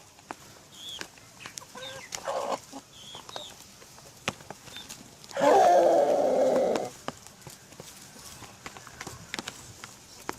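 A rooster lets out a loud, drawn-out alarm call warning hens of crows passing overhead, preceded by a few short clucks and chirps from nearby birds.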